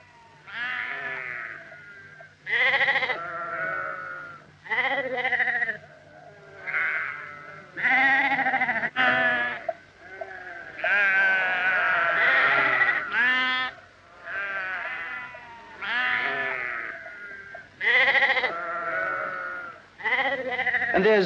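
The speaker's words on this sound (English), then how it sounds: "A flock of sheep in the middle of the main street." A flock of sheep bleats on the main street of a small country town, with loud, close bleats overlapping in repeated bursts and no talk.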